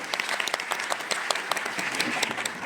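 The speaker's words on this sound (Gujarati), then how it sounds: "ભાઈ એડવોકેટ ગોવિંદભાઈ બધા બીજા વકીલ મિત્રો માટે પણ તાળીઓનો આવકાર થવો જોઈએ." An audience at a Dalit organizations' rally in Gujarat claps in a dense, steady burst of applause, close and moderately loud throughout, with no speech over it.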